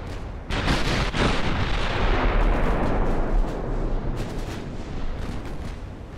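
Heavy warship guns firing in the naval battle game Ultimate Admiral: Dreadnoughts, an 1890 Italian fleet in action, with loud deep booms and overlapping rumbling salvos rolling continuously for several seconds, several sharp reports standing out.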